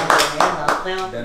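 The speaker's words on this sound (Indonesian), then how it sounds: "Tepuk tangan dong untuk" On a talk show, three or four sharp hand claps ring out in quick succession, close and loud, with a voice speaking alongside.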